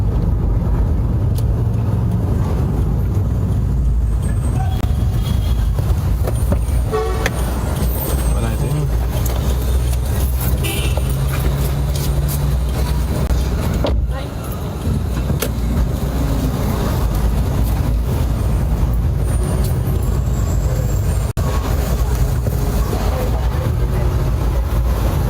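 Steady morning road traffic on Springs Main Road in Grenada, a continuous low rumble of cars and buses passing close by, with a brief dip midway before the flow resumes.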